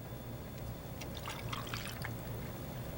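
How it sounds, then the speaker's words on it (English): Orange juice poured into a highball glass holding vodka, a steady liquid splashing and trickling for a few seconds at close range. "But now instead of tonic, you add orange juice."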